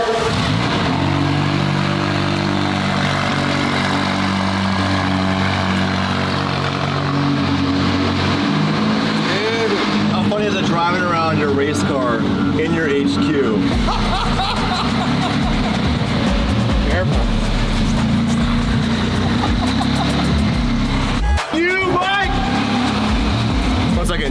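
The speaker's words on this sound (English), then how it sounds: "Cold start." Hypercar engine firing up from a cold start, a deep loud idle that swells with revs and settles into a steady rumble, with people talking nearby throughout.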